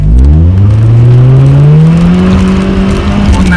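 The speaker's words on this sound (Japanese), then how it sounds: "例えば急なアクセル踏むとどうなるかっていうとですね、" A car on an icy, snowy Sapporo road under sudden hard throttle: the engine revs loud and close with a steadily rising pitch as the wheels spin without grip. It runs continuously for a few seconds, with no talking.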